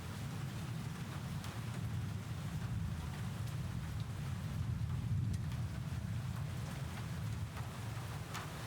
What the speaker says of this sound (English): Strong gust lifts the tent's canopy. The entrance flaps wildly in the wind as rain pours in.